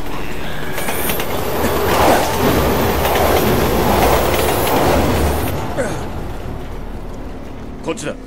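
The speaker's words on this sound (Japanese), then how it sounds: "電車はまだ動いてるの。" A train rushes through an underground station in Resident Evil 6, a loud sustained rumble and rattle of wheels and carriages that fades slightly near the end, with voices speaking over it.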